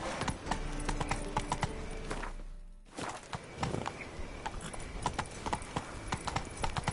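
Roach, the horse in The Witcher 3, walks along with steady clip-clop hooves in an even rhythm, close and clear, with a brief lull midway before the footfalls continue.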